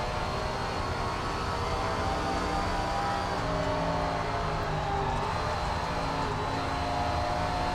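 A super late model race car engine in SRX: The Game, droning and revving hard in a steady high roar with shifting pitch as it powers through the corners. Loud and continuous, with no speech.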